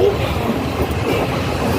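Passenger train near Kondapuram bound for Tadipatri, a loud continuous rumble and rattle from inside the carriage with no pause throughout.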